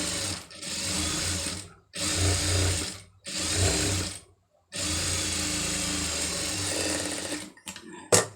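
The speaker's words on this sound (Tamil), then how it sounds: "ஒட்டு தையல் போட்டுருங்க" A sewing machine runs in close, loud bursts while stitching a sleeve seam, four stretches of steady whirring stitching separated by brief stops, ending with a few clicks, no talk.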